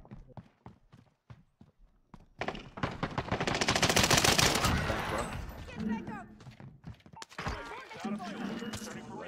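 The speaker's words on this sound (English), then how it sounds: "I walked up and shot the tree because I thought it was him." Rapid bursts of automatic gunfire in Call of Duty Warzone on the Caldera map, sharp clustered shots at the start building into a dense loud volley, then scattered shots continuing under game sounds.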